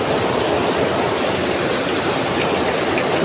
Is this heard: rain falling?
yes